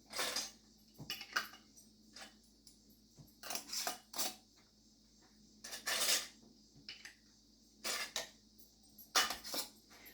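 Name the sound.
putting lids and rings on canning jars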